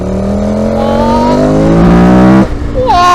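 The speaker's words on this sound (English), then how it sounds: "it does the airbox pop that a Super Duke does." A KTM Super Duke-style motorcycle engine revving hard and loud, pitch climbing steadily as it accelerates, then a sharp change and a popping airbox bark near the end, heard close up.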